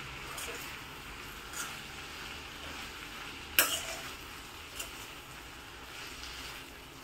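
Masala for kanda pav stirred in a pan, a soft continuous scraping and light sizzle with a sharper clink of the spoon partway through, close and steady without talk.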